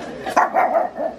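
Pug dogs bark at a fake dog indoors, a few quick, close yapping barks in rapid succession followed by a softer yip, loud and short.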